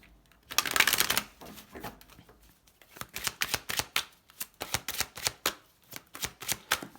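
A deck of tarot cards is shuffled up close: a brief riffling burst, a pause, then a long run of crisp, rapid card slaps and flutters in an uneven rhythm.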